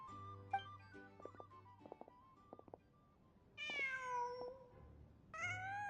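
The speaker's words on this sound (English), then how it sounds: "Just a cat." A cat in the video game Genshin Impact gives two clear, drawn-out meows, the second trailing off at the end, over quiet game ambience with scattered soft tones.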